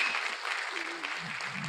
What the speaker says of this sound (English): you can get a round of applause for them.